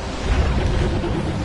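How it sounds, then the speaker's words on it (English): A tsunami wave in the War of the Monsters video game, a steady roaring wash of surging water and wind-like rumble that holds loud and continuous from start to finish, with no voices. "Tsunami."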